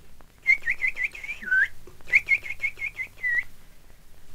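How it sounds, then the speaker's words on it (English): A bird sings high on the top of a tall tree in clear, whistled phrases: a quick run of repeated bright notes ending in a sweeping slur, a pause, then a second matching run, fairly near and alone. "A bird singing way up on top of the tallest tree."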